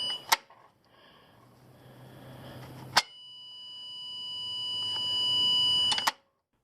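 A Jeep TJ with an LS engine swap gives sharp electronic reverse-gear beeps when shifted into reverse: a bright burst near the start, another around three seconds, and a final cluster near six seconds, with steady tones ringing between.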